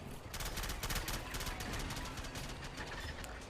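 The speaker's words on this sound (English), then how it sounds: "The machine gun is still firing, which is good." A machine gun firing in the Men of War Assault Squad 2 video game during a Balaton 1945 battle, rapid sustained bursts of automatic fire over a low rumble of combat.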